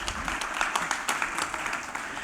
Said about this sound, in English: So a loud round of applause for each one of you sitting over here.